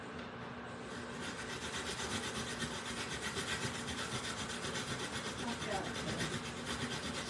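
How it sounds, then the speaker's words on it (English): Vegetables being shredded on a hand grater, a steady continuous rasping scrape repeated in quick strokes, close and moderately quiet. "Just going to grate them up."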